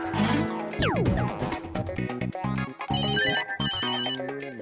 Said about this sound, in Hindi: अरे जॉनी का ही फोन आ रहा है।